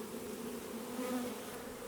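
Bees hum steadily around a city beehive, with a close, continuous drone that wavers slightly in pitch and has no talk over it.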